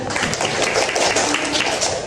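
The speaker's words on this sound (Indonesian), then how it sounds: "tepuk tangan" Classroom applause during a lesson on halal law, a dense, steady wash of many hands clapping at once for about two seconds, with faint voices mixed in.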